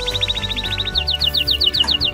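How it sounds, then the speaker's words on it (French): Canaries sing in rapid, bright repeated trills, first a fast even series then slower sweeping notes, loud and close over a low musical hum. "Les canaris sont considérés comme des oiseaux chanteurs qui ont reçu une grande attention des gens."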